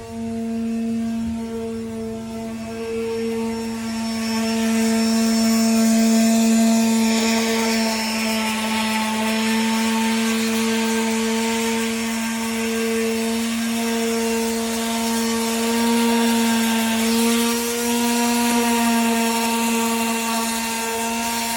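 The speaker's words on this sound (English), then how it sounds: "I used the Orbital sander. It's electric." An electric orbital sander works steadily on a car body, giving a constant loud whining hum with a strong steady tone and slight shifts in pitch as it moves, with no talking.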